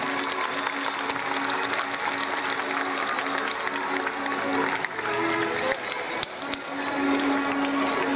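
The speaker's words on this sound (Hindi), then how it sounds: "एक बार जोरदार तालियां।" Loud, sustained clapping from a crowd at a school annual function while guests receive bouquets, mixed with a constant hum and background murmur of voices throughout.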